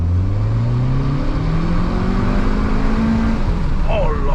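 A 2011 Volkswagen Polo GTI with a 180 hp engine and DSG gearbox, heard from inside while driving: a close, steady engine drone with tones climbing as it pulls through the gears, and a voice talking over it.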